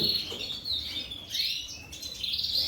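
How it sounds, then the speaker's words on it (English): Small yellow hybrid finches from a red variegated hen and a native goldfinch cock chirp in quick, high, thin twitters, fairly close and continuous, with faint rustling in an indoor aviary. "There are 2 little yellow birds."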